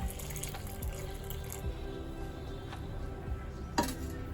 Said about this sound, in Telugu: ఇప్పుడు వచ్చేసి పాలు వేస్తున్నాను.